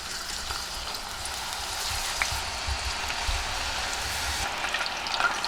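French fries frying in canola oil at about 310 degrees, a steady close sizzle and crackle with small pops, continuous with no talking.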